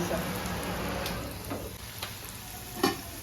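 A hot Marathi tempering of garlic, oil and turmeric sizzles over taro leaf curry, giving a steady soft crackle with a few louder pops and clinks near the end.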